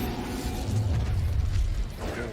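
An Incendio fire spell cast in Hogwarts Legacy, a dense, loud whooshing roar of flame with low rumbling bursts and crackle, sustained and close for the whole moment.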